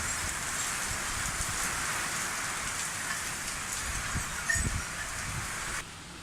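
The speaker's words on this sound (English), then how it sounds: "We haven't had rain like this in 6 months." Heavy monsoon rain in Thailand pours steadily onto surfaces nearby, forming a dense, even hiss with scattered louder drops and a brief knock partway through, and no voices.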